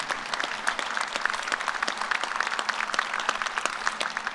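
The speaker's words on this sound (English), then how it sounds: "he deserves a special applause" Dense, even applause from a large commencement crowd, many hands clapping at once in a continuous wash with sharper individual claps standing out, steady and without voices.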